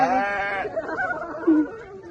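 A single close sheep bleat rings out on a farm, wavering and nasal, followed by a quieter second call.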